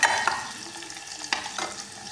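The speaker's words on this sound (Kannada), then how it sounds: "ಚಲೋ ತಂಗ ಫ್ರೈ ಮಾಡ್ಕೋಬೇಕು ರೀ ಉಳ್ಳಾಗಡ್ಡಿನ ಎಣ್ಣೆ ಒಳಗೆ" Chopped onions fry in hot oil in a home kitchen pan, giving a soft continuous sizzle broken by a few quick stirring scrapes, close and fairly quiet with no talking.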